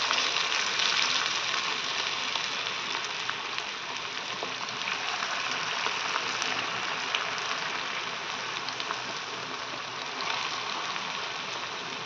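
Chicken pieces frying in very hot oil in a kadai, a steady dense crackling sizzle that runs evenly and fairly loud throughout, with no talk over it.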